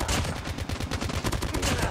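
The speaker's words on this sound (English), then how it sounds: "Mow them down with my assault rifle that works like an LMG." Rapid, sustained automatic fire from an assault rifle in Call of Duty Mobile during a Halloween 10v10 match, dense overlapping shots in a continuous loud stream with no pauses.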